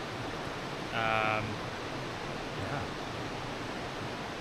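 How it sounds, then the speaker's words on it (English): Large waterfall at Kennedy Falls near Vancouver, a steady broadband roar of falling water that holds evenly throughout, with a person briefly speaking over it near the start. "Waterfall is large, definitely."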